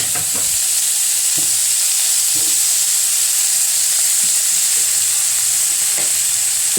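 Grated coconut frying in oil for a Kerala bitter gourd theeyal gives off a steady, even sizzle that hisses throughout, with a few faint stirring scrapes and no speech.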